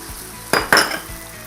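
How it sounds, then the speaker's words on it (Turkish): Onions and peppers drop into a pan of meat that is already frying, giving two sharp bursts of loud sizzle a moment apart. A low hiss runs before and after, and no one speaks. "Efendim şimdi etimizi bir süre kavurduktan sonra içerisine soğanımızı ekliyoruz"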